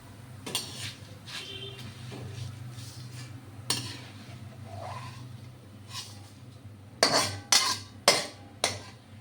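Flattened rice (chira) frying over high heat in a pan is stirred with a metal utensil, giving sparse scrapes and clinks with a low steady hum beneath, then several sharp, evenly spaced metallic taps at the end.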